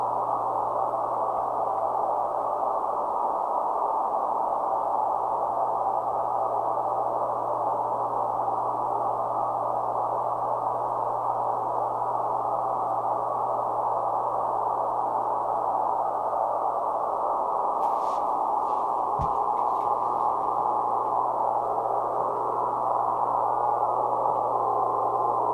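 An MFJ-9200 radio receiver gives off steady digital tones over a band of constant noise. A low hum runs underneath, with a few brief chirps toward the end.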